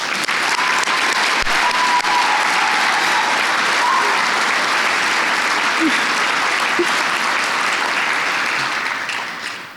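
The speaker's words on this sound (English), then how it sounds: "Can we applaud them?" A large audience at a scholarship event bursts into loud, sustained applause, a thick wash of clapping with some cheering that holds steady before tapering off at the end.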